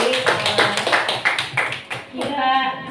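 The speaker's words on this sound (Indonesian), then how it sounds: "Tepuk tangan untuk Bu Sri." Clapping from a group of adult participants at a positive-discipline training session for prospective teachers, rapid uneven hand claps close by with some voices mixed in, fading briefly near the end.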